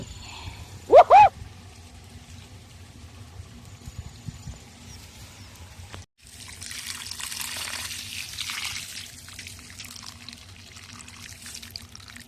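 Water gushes from a black garden hose while coconut palms in a garden are watered. A brief tonal squeak comes early, then after a pause the steady rushing flow sets in and continues close by.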